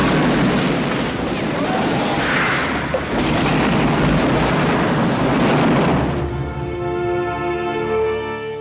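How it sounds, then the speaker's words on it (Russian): Artillery shelling and a house collapsing in a Stalingrad war film battle scene: dense, loud, continuous rumbling blasts and crashing debris for about six seconds, then the din drops away under a sustained tonal sound. "Артиллерия шарашит по площади, дом рушится, Катя рыдает."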